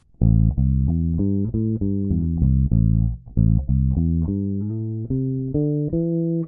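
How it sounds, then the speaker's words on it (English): A bass guitar plays a minor seventh arpeggio as a lesson example, a run of clear, loud plucked notes, each ringing and sustained, with one brief pause midway. "Yeah, so the minor 7th triad sounds like this."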